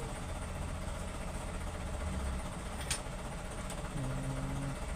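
An Isuzu 4BE1 diesel engine idles at a mechanic's shop, a steady low rumble that holds even throughout, with a couple of faint clicks and a brief hum toward the end.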